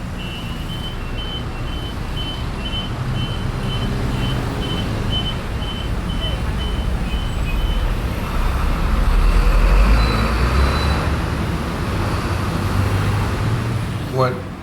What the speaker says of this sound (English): this is a real interesting recording of just a cacophony of traffic